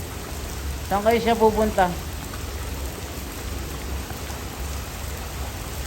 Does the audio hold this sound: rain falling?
yes